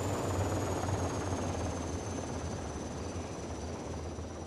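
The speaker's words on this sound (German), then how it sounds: "Da geht wieder der Hubschrauber rum" Steady, loud helicopter rotor drone with a constant engine hum, flying overhead in ArmA: Cold War Assault and filling the whole stretch without any talk.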